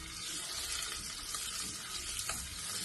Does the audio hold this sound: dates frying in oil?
yes